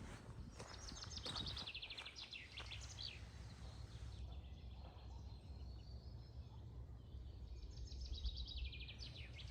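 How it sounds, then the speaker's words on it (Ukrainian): Faint birdsong trills repeat in bursts over a steady low outdoor rumble, distant and quiet, with no talking. "як пташки співають"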